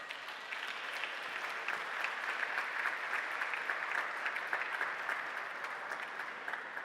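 Steady applause from an audience welcoming the Democracy Challenge winners, a dense wash of clapping that is fairly faint and continuous throughout, with no voices over it.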